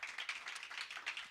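A small audience at an evening tech meetup gives a brief round of applause, light scattered clapping that sounds moderately close and fairly quiet.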